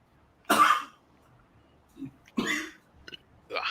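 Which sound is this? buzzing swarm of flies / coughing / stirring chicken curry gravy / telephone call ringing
coughing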